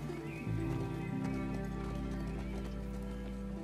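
Horse hooves clip-clopping and a horse neighing in The Last of Us Part II, loud and close over a steady low in-game background rumble.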